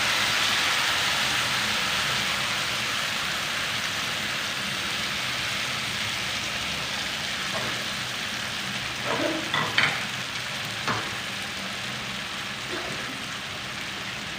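Tomato paste fries in a pan with onions, a steady dense sizzle throughout, broken near the end by a few stirring scrapes and clinks.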